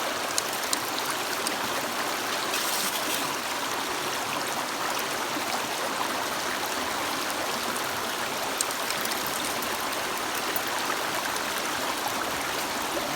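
Creek water rushes steadily through a fluid bed gold sluice, a dense, even hiss and splash of flowing water that stays constant throughout, close by and without talk.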